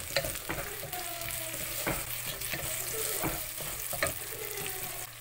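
Onions and green chilies frying in a pan for soya chunk biryani, a steady close sizzle with repeated scraping stirs and clinks of a spoon throughout.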